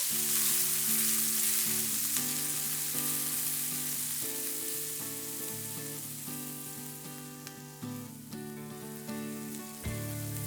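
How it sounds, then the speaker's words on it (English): Shallots fry in bacon fat in a pan, a loud, steady sizzle close up with faint clinks of stirring, easing slightly over time, with no talk. "stir it around and let these shallots cook for a few minutes until they're soft and translucent"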